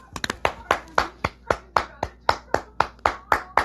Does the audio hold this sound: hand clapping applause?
yes